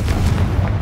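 A Confringo fire spell blast in Hogwarts Legacy, a loud, deep booming burst with rumbling low end that rolls through the short moment, heard alone without talk.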